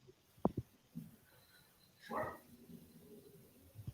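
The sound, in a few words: dog barking at someone outside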